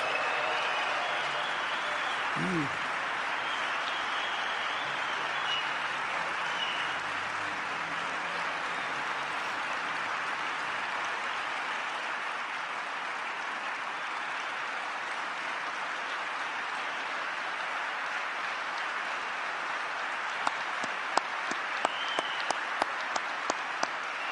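Broad, steady applause from a large audience at a formal event where Trump announced an end to sanctions on Syria, continuing at length with sharper individual claps near the end.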